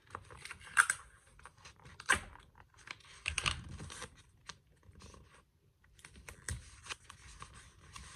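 Strips of tape torn and pressed down while covering a pair of craft binoculars, giving faint, quiet rips and crinkles in short scattered bursts with pauses between.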